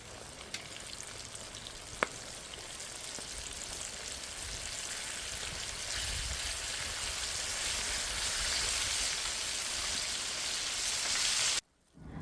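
Chicken feet deep-fry in hot oil with a dense, steady crackling sizzle that carries on loudly for most of the time before stopping abruptly near the end.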